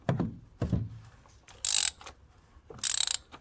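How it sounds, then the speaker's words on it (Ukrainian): Low knocks and scrapes on a plastic oil filter housing of a MINI Countryman S 1.6 turbo, followed by two quick bursts of ratcheting clicks from a wrench tightening it, close up with no talking. "зажимаємо і трішки ключиком підтягуємо"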